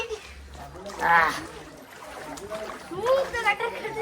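Water sloshes and splashes in a couple of soft bursts, as if someone is wading in, with a voice talking over it.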